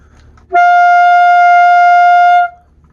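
A single sustained high D on saxophone, steady and loud, held for about two seconds before fading out.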